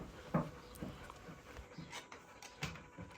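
Dogs pant in hot weather, with quiet, rapid breathy pants and a few soft whimpers and rustles, close by and fairly faint.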